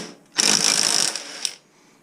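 A power tool spins off the 22mm rear axle nut of an FB Mondial HPS 125 motorcycle on a stand, one loud whirring burst of about a second and a quarter, close up, ending in a brief blip.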